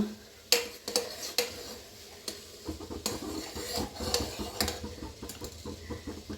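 A spoon clinks and scrapes against a metal pot of custard made with boiled milk, with irregular taps, then settles into steady stirring scrapes, close by with no voices.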